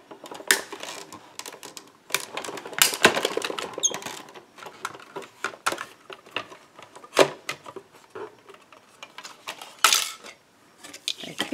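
A WRMK pillow box punch board punches and scores paper with a run of sharp, close clicks and clacks, irregular and fairly quiet, and no one speaks.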